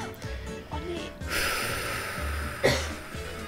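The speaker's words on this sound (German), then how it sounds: "mein Huster hat jetzt leider ausgelöst" One sharp cough bursts out late, loud against a steady background hiss, after a few softer breathy noises, during a quiet-challenge session of the game Tower of Hell.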